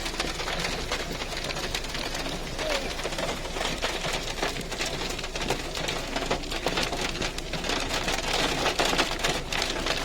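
Hail pelts a car in a dense, continuous rattling clatter, loud and close, with no voices over it.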